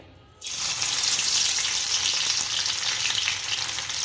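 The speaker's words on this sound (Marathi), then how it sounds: "आता आपण मिरच्या टाकून घ्यायच्यात त्याच्यात" Green chillies dropped into hot oil in a heated wok burst into a loud, close, continuous sizzle that starts abruptly and holds steady to the end.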